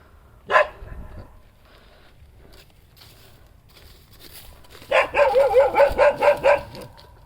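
One sharp bark sounds early, then after a quiet stretch a dog lets out a quick, rhythmic run of loud, close barks.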